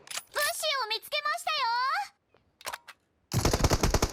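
Gunfire in PUBG Mobile on the snowy Vikendi map: a dense burst of rapid shots closes out the moment, loud and close, after stretches of excited talking by a player.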